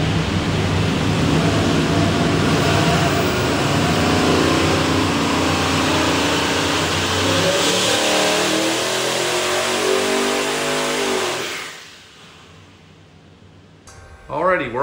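A twin-turbo 408ci LS engine with a Holley Sniper intake and custom hydraulic roller cam roars on a dyno on pump gas, rising in pitch through a sustained loud pull before cutting off abruptly, with a voice speaking near the end.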